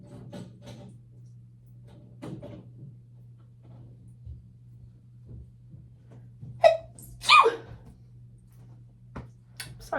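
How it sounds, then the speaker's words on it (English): A person sneezes twice in quick succession, sharp and close, over a quiet room with a low steady hum and a few soft clicks and breaths. "Sorry guys, I had to sneeze."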